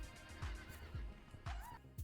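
Horses neigh and whinny in a tense film scene as they flee a house, with several whinnies rising over a busy score and low thuds. A few hoofbeats come through between the calls.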